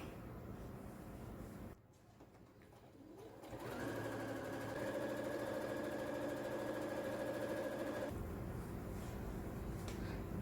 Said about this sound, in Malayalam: അപ്പോൾ ഇത് രണ്ടും ഒരുമിച്ച് വെച്ചിട്ട് അടിയിലത്തെ പീസും രണ്ടാമത്തെ പീസും ഒരുമിച്ച് വെച്ച് സ്റ്റിച്ച് ചെയ്തെടുക്കുക